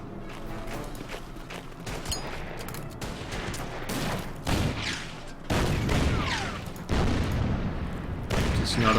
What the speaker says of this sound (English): Well, that's the artillery.